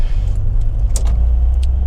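A 2003 Vauxhall Zafira 2.0 DTi 16v diesel drives along a road, a loud steady low rumble of engine and tyres inside the cabin, with a brief jangle of keys.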